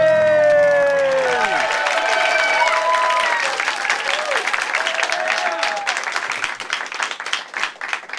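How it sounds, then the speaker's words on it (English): A late-night talk show studio audience claps and cheers as the host comes out, loud at first over fading music, then thinning into scattered clapping with a few cheers. "Some good double clapping right over there."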